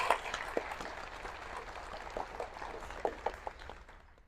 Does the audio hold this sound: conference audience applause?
yes